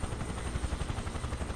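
A Huey helicopter's engine and rotor running in MS Flight Sim 2024 on Mount Kilimanjaro, a steady rhythmic thumping of blades over a constant turbine whine, close and even throughout.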